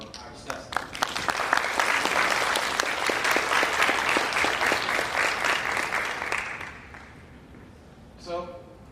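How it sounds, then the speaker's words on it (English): Audience at a panel discussion on sustainability and environmental policy breaks into loud, sustained applause for several seconds, then fades, with a brief faint voice near the end. "So please give a firm round of applause for our discussants."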